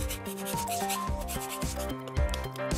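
Lemon zest is rubbed off a lemon on a grater while seasoning lamb, giving quick repeated close scraping strokes in a steady rhythm, with a faint musical backing beneath.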